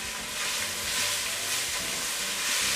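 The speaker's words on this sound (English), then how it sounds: "You can hear the sizzle." Hot oil sizzles in a pot as seasonings fry for Bajan pumpkin soup, a steady close hiss and crackle that holds throughout with no talk.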